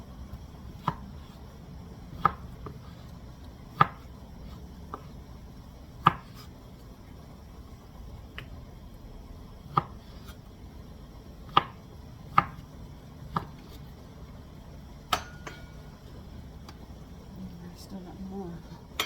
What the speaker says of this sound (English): That's why I'm rushing to get my beets cut.